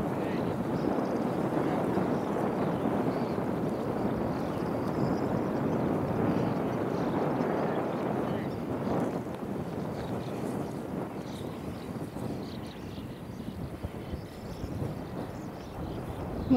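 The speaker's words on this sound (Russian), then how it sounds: "Ветер тут сильный, конечно." Strong wind near a farm in Taigan roars steadily across the microphone in a dense, continuous rumble, easing a little toward the end.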